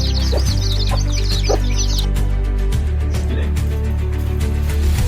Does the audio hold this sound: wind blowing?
no